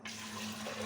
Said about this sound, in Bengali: প্রেসার কুকার বসিয়েছি, তার মধ্যে এইগুলো আমি ঢেলে দেবো।